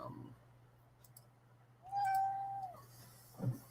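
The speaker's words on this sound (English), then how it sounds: "the kitty says hello to everyone" A pet cat gives a single short, faint meow indoors over a low steady hum, with a few soft clicks around it.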